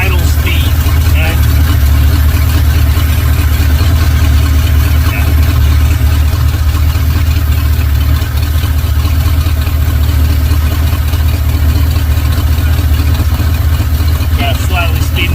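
A two-barrel carburetor engine idles steadily at close range, a constant low rumble held through the whole stretch while its idle speed screw is being adjusted, with a person talking over it.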